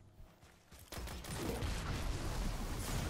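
Suros Regime auto rifle firing in the video game Destiny 2: after a quiet start, a loud sustained burst of rapid automatic fire rattles on steadily at close range until the end.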